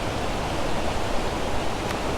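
Lumb Hole Waterfall in autumn, water pouring over rocks in a loud, constant broadband rush heard close up, with no voices.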